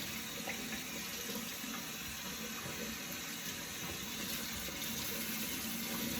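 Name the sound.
hot water running from tap into sink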